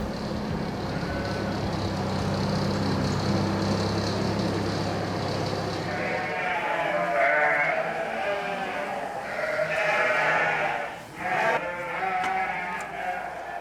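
A large flock of sheep in an Alpine pasture in the Dévoluy valley of the Hautes-Alpes, bleating loudly and continuously, many voices overlapping, first over a low engine rumble, then in a denser, higher chorus.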